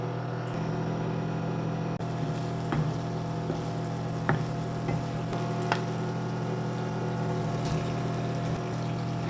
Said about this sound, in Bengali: মাছগুলো আমি ভালোভাবে কষে নেব মাছগুলো ভালোভাবে নেড়ে সেড়ে নেব